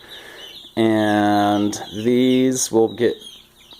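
Chickens cluck and squawk loudly up close inside a walapini earthship greenhouse, in a few drawn-out calls, with someone speaking briefly.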